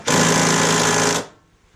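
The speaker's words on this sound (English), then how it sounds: "I'm not expecting this gun to slacken that" An impact gun hammers loudly in one continuous burst of about a second on a Fiesta ST rear suspension bolt, then stops abruptly, leaving a quiet tail.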